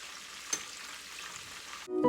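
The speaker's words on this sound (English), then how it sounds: "So to get the wet effect, you're gonna melt 1/2 stick of butter" Half a stick of butter melts in a skillet with a faint, steady sizzle and one brief clink, ending in a louder clatter and tonal ring.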